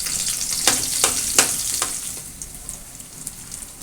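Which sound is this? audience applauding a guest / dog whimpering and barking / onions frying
onions frying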